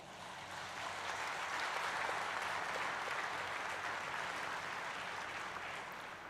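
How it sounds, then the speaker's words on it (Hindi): Audience at the Cochin Shipyard ceremony for INS Vikrant breaking into sustained applause, a dense even wash of many hands clapping that swells after the first second and holds steady, fairly distant and free of talk. "आप सभी के लिए एक बार जोरदार तालियां हो जाएं।"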